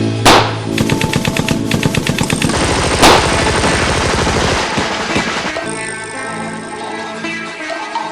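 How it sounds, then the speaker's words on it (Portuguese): A film scene of a troop of soldiers firing on a band of outlaws: rapid machine-gun-like bursts of gunfire with a few louder single shots, loud and dense, fading into a ringing tail toward the end. "Em seguida, toda a tropa dispara contra o bando."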